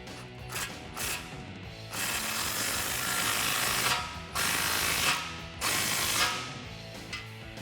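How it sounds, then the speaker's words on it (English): A ratchet with a 15mm deep socket tightens a cat-back exhaust clamp on a 3.6L Jeep Wrangler JL, giving rapid close clicking bursts separated by short pauses, with no voices. "I'm going to use a 15mm deep socket to go ahead and tighten that up."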